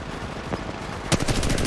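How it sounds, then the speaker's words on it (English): Gunfire in the mobile shooter game Warzone Mobile, a brief, rapid burst of automatic shots sounding over steady game background noise, with no talk. "Oh, they're shooting."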